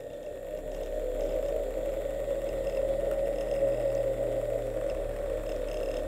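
A Hasbro Ghostbusters Neutrona Wand toy gives off a steady electronic hum sound effect that swells slightly and holds at a moderate level, with no talking.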